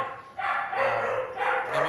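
Dogs bark indoors in a short burst of repeated, fairly close barks that carry on steadily through the moment.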